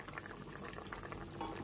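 Egg omelette curry gravy with potatoes bubbles and simmers in a pan, a faint, continuous crackle of small bursting bubbles with no voices.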